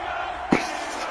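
Stadium crowd noise in an EA Sports NFL video game ahead of a Buffalo Bills vs Pittsburgh Steelers kickoff, a steady broad roar with a brief swell of cheering partway through.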